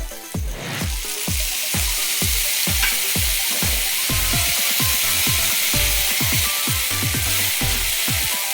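Ginger garlic paste fries in a pan with a constant loud sizzle, broken by repeated spatula scrapes and taps against the pan that come at a fairly steady rhythm, with no talk.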